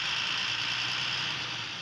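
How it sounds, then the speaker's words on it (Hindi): Diesel engine of a Tata 2518 BS4 truck running close by as the accelerator is eased, a steady droning hum that tapers slightly toward the end, heard alone without speech. "गाड़ी धीरे धीरे बढ़ रही है एक्सीलेटर,"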